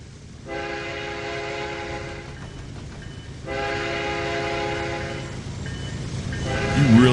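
A fast-moving train rushes past in the Trainz 2022 railroad simulator, its horn sounding in two long, loud blasts over a constant heavy rumble of wheels on rails, with a third shorter horn note toward the end.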